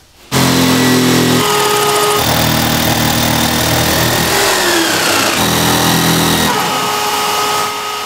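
A jigsaw runs continuously with a loud, buzzing motor whine that shifts pitch slightly as it cuts during a kitchen sink installation, then cuts off near the end.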